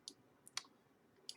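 Soft, sharp computer mouse clicks from left-clicking while selecting faces in 3D modelling software, several quiet isolated ticks spaced irregularly against near silence.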